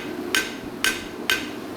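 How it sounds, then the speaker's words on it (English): Three evenly spaced, sharp hammer blows ring on sheet metal being spread into a ski-ramp shape, each strike bright and metallic with a short decay, no talk. "I drop a little bit more hammer blow here"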